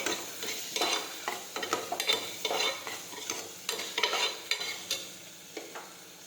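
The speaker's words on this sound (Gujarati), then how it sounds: "હવે આપણે મીઠું નાખીશું હવે આપણે ખાંડ નાખીશું હવે આપણે ફરી પાછું સાતળી દઈશું" Bottle gourd curry with salt and sugar being sautéed in a pan, a constant sizzle broken by repeated rhythmic scrapes and knocks of a spoon stirring close by.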